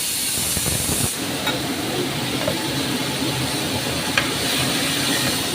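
Water poured into frying spices (cumin powder, coriander powder and Kashmiri chilli powder) in a pan sends up a loud, continuous steamy hiss and sizzle that holds steady for several seconds, with no voices.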